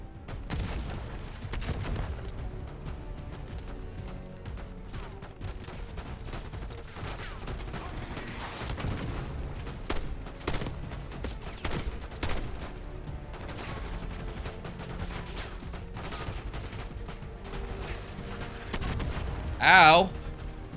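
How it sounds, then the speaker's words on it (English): Video game combat with a thrown grenade exploding amid sustained gunfire: dense, rapid shots and mechanical clatter throughout, ending in a loud, close blast. "Weird way to throw a grenade."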